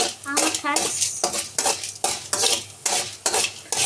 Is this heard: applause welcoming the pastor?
no